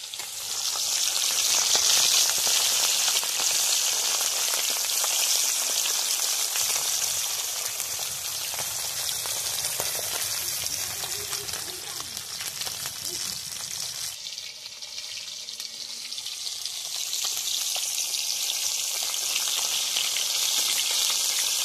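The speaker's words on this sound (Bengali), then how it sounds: "মাছটা ভাজছি।" Japanese puti fish frying in hot white oil in a pan, a dense continuous sizzle that stays loud and close for the whole stretch, easing slightly midway before swelling again.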